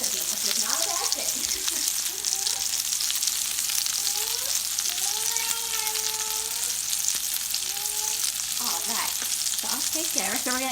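Lamb burgers sizzle steadily in a pan, a constant bright frying hiss that runs throughout while a person talks over it.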